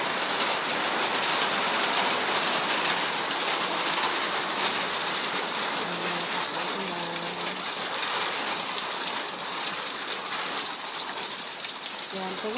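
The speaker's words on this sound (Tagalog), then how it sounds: "Raining time here in Pangasinan." Afternoon rain in Pangasinan falls steadily in a dense, even hiss of drops on surfaces, with a faint voice murmuring under the constant downpour.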